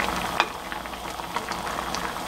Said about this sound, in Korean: 한 10분 정도 지금 계속 강불로 지금 끓이고 있었거든요